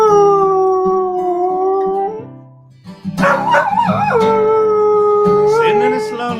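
A dog howls in long, loud, wavering tones close by, singing along with music, pausing briefly before launching into a second rising, sliding howl.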